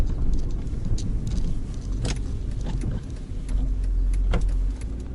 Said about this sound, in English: Got the burble of the V8.